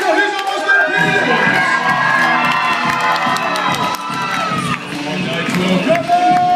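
A loud crowd of children and adults screams and cheers continuously for a Power Team strongman called Big Nitro during a live strength show, with whoops and shouts rising and falling throughout.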